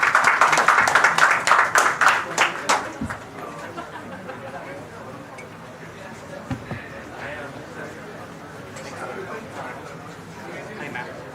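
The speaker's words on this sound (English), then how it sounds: "Please give a round of applause for them as well." Conference-hall audience claps for about three seconds, a loud burst that quickly fades, followed by quieter room noise with scattered voices and murmuring.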